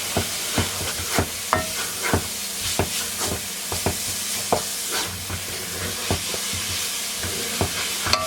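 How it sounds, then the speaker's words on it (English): Crushed garlic sizzles with onions in a hot skillet, a steady broadband frying hiss broken by repeated sharp clicks and scrapes of a utensil stirring the pan, close and fairly loud with no talking. "I'm going to add in some garlic."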